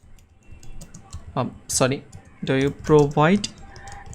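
Typing on a computer keyboard while entering a question into a freelance gig listing, with quick soft key clicks running under a voice speaking nearby.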